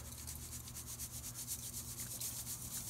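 Sand rubbed through a screen while preparing homemade clay gives a steady, close gritty scraping with a rhythmic back-and-forth pulse and a low hum underneath.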